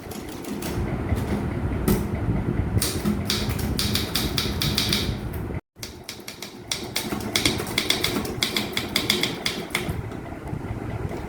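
A typewriter clatters close by in bursts of rapid key strikes, with short pauses and a brief cut of silence midway, typing a government order letter.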